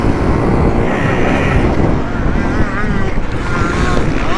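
Kawasaki KX450F dirt bike engine droning steadily up close while being ridden, mixed with strong wind buffeting on the microphone and some faint rising revs.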